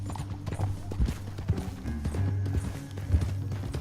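Horse hooves clip-clop at a walking pace in Red Dead Redemption 2, with uneven thuds over a low game ambience and no talking.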